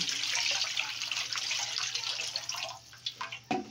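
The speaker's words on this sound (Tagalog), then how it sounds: "lagyan natin ng tubig" Water pours steadily into a cooking pot with a rushing splash, then tapers into a few gurgles and drips near the end.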